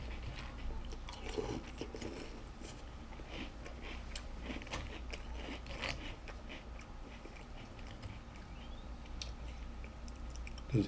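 Chewing a spoonful of Post Chips Ahoy and Nutter Butter cereal with milk: soft, steady, close-up crunching and squishing bites that continue for about ten seconds with no talking.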